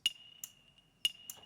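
Two sharp, bright rim clicks from the E1 rim sample in Groove Agent 5, with a thin ringing tone between them, hits spaced evenly in a sparse pattern, close and dry.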